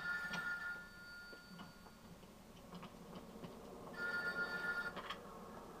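In The Godfather Part II video game, a telephone rings in short repeated bursts, faint and somewhat distant beneath low background ambience and scattered ticking sounds.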